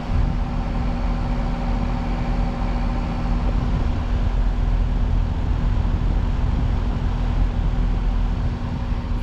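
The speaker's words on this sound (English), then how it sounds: "the compressor is quite a bit louder now" Bryant Preferred air conditioner outdoor unit starting up, a steady loud droning hum from the compressor and fan motor with a constant low tone, running evenly without pauses.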